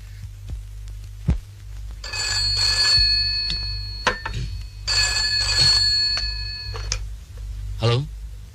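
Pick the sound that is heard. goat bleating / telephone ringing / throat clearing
telephone ringing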